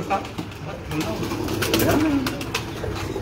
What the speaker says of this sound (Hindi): ये लाल परी वाले कबूतर हैं।